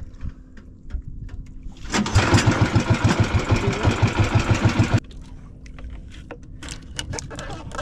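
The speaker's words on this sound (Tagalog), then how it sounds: "Oh, ganda rin yung makina nila." A boat engine roars to life with a rapid rhythmic chugging for about three seconds, then cuts off abruptly, leaving quieter background clatter.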